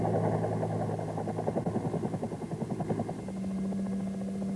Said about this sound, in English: A maximum performance takeoff is used to fly a Cobra out of confined areas over obstacles safely.